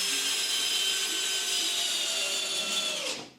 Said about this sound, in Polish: I z powodzeniem udało się wkręcić wkręt.